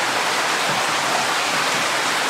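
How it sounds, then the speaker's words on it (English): A steady broadband rush of falling water from a waterfall inside a cave, continuous and fairly loud with no other sounds. "Watch for waterfalls."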